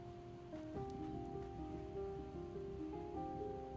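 Soft, steady rain falls in the Project Zomboid video game, a quiet wash of patter under faint tonal game music, with no voices.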